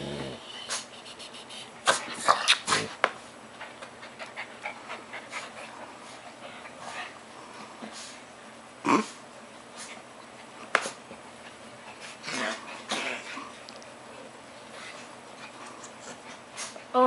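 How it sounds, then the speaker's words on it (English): Small dogs scuffle and pant at close range, with occasional sharp yips, snorts and sniffs over a low, steady background. "They're just playing. Let the little dogs play."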